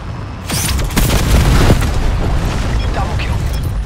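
Hellstorm missile strike explosions in Call of Duty Black Ops 4 multiplayer on the Slums map, a string of heavy booming blasts rolling into continuous loud rumble, with game voice chatter underneath.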